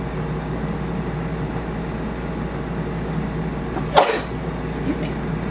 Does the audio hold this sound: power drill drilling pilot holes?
no